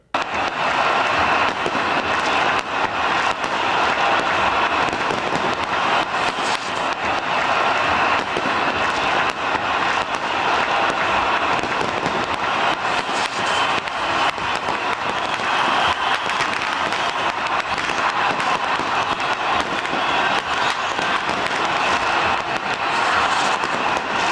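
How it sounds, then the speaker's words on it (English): Fireworks and a roaring crowd in Tahrir Square, Egypt, as Morsi is deposed, a dense continuous din of bangs, crackles and cheering with no pause. "That was some real fireworks."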